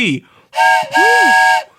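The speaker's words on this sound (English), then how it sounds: "Let me get the Fuego hype train whistle ready." A loud hype train whistle sound effect with two long sustained blasts of bright, multi-tone steam-style whistling, a short gap between them, and a brief voice at the start.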